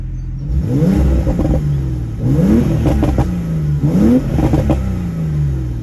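Loud GTS sports car exhaust in sport mode revving three times in a steady rhythm, each rev rising quickly then falling back with a throaty, crackling tone.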